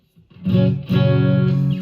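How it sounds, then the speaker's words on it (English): Electric guitar with Alnico Strat-style single-coil neck pickup, Reverend Eastsider S T-style, played through a Blackstar amp with reverb: two loud sustained strummed chords, the second ringing on to the end, no talk. "you're hearing the neck right now. I'm playing through a Blackstar amp with some reverb on it."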